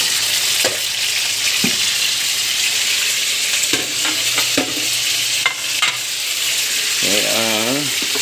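Chayote and cucumber sauté in a hot pan with a steady, bright sizzle, punctuated by scraping stirs and clinks, while someone talks briefly near the end.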